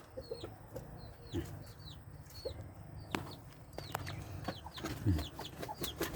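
Chickens cluck and chirp repeatedly nearby, short overlapping calls scattered over a low background murmur.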